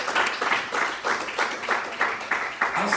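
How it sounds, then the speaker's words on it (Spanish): Congregation clapping together during a church service, a brisk, even run of hand claps in regular bursts that fills the room loudly and without pause. "Démosle un aplauso al Señor."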